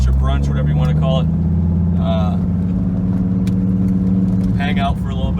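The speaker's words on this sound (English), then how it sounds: "As you can probably hear, the car is pretty loud. I am catless, and I got BBE Catback Exhaust, Billy-Boat exhaust catback." A Dodge Viper running catless with a Billy Boat catback exhaust drones loud and steady nearby, with a deep continuous engine rumble throughout and people talking over it in a few bursts.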